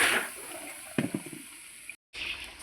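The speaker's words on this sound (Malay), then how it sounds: "Okey, kita nak masukkan santan." Coconut milk is poured into a pot of chicken rendang, giving a soft liquid splash and gurgle with a few brief sloshing bursts, then a short cut before the quiet bubbling resumes.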